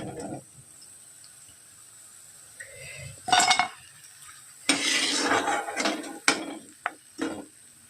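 Fried small green chillies for mirchi bhaje being lifted out of the pan onto a plate, giving a few scattered metallic clinks, scrapes and sharp knocks of a utensil against the plate and pan, mostly close, with no talking.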